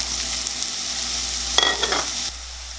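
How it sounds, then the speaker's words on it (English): Onions cooking in about half a tablespoon of avocado oil in a pan, a steady soft sizzle with a brief burst of stirring near the end, close and alone with no talking. "So about a half tablespoon of the avocado oil and the onions, and we'll cook these until they're translucent."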